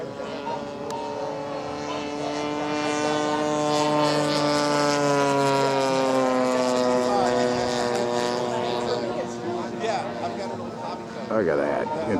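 A radio-controlled Ultra Stick model airplane cruises fast overhead at a flying field, its loud propeller whine falling in pitch as it passes, with voices over it.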